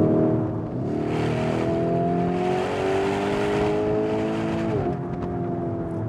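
A Lamborghini Urus SUV in Corsa drive mode, its engine held at a loud sustained drone with pitch sweeping up, holding, then dipping and rising again, heard up close with no talk.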